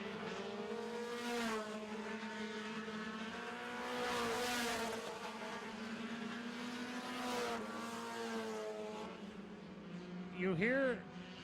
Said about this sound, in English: You hear that cars skipping as they're misfiring as they come by the grandstand.